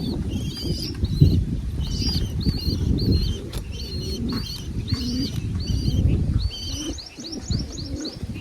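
A pigeon chick moves about on the ground, its wings flapping in quick soft bursts, while pigeons coo and chirp repeatedly nearby over a busy background rumble.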